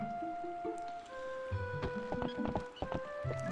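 A horse clip-clops along in Zelda: Twilight Princess, its hoofbeats coming in an irregular series of soft knocks over sustained game music tones.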